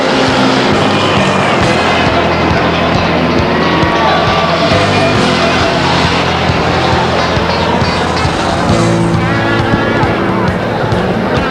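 A street stock race car at a speedway roars out of the final turn toward the finish, with steady, loud engine noise, crowd din and an announcer's voice over the PA throughout.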